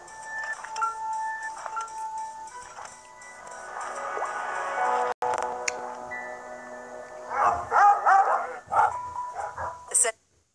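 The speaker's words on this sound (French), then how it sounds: "Maintenant, on va voir les chiens qui agressent." Aggressive, poorly trained dangerous dogs bark in bursts, with a voice and other talk running between and over them, ending abruptly.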